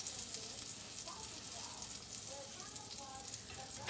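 A burger patty frying in a pan, a steady close sizzle and crackle of fat running continuously, with faint speech drifting in beneath it.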